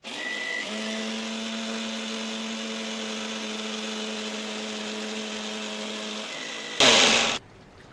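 A steady mechanical whir of a kitchen grinder grinding coconut runs for several seconds, then a brief louder harsh burst before it cuts off.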